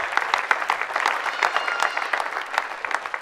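A church congregation claps together in worship, a steady rhythmic applause filling the room, loud and sustained with no voices standing out.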